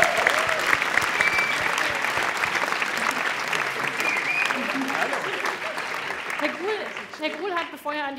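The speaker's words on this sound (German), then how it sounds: "Schon mal ganz herzlichen Applaus." An audience at a public event applauds a professor being introduced, with dense steady clapping throughout, voices rising through it, and the applause tapering near the end.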